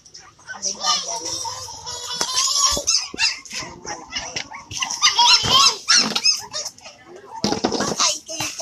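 A dog yelps and whines in high, squeaky bursts amid lively household chatter, with voices talking over and between the barks throughout.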